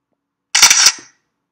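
A screen capture tool plays its synthetic camera shutter sound, a single crisp, loud mechanical click-and-whir lasting about half a second, standing alone in silence.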